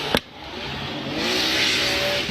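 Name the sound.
drift car engine with anti-lag firing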